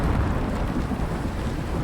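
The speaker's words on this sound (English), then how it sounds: "Yeah, that's a rough storm." Dense, steady roar of a heavy thunderstorm with rain and rumbling in the ICARUS survival game, continuous and fairly loud with no distinct claps, alone without talk.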